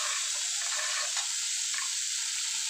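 Chopped tomatoes go into onions frying golden brown in a pan for a dhaba-style capsicum and potato dish, giving a steady loud hiss with light stirring clicks.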